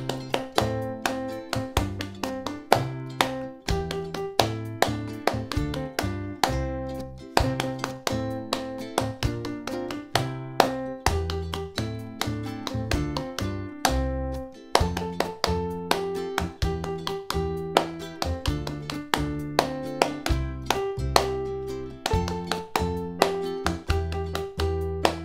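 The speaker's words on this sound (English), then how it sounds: "let's try sing the song inside our heads and clap it" Children at a primary schools' prom rehearsal clap a song's rhythm in unison, sharp repeated claps in a steady patterned beat that carries on for the whole stretch, with accompanying music underneath.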